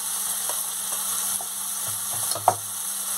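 Ground chilli, cumin and coriander powders fry in a pan with a steady hiss, with light stirring scrapes and one sharper clack near the end, no voices.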